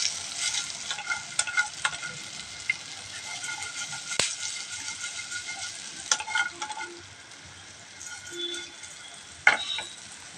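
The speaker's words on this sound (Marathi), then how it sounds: "आणि यामध्ये हे आपण बनवलेले शेंगोळे त्यामध्ये सोडायचे आणि फक्त असे हलवायचे." Shengole dumplings being stirred in a pan, giving a steady sizzle with scattered scraping and clinking strokes, close and moderately loud, with no talking.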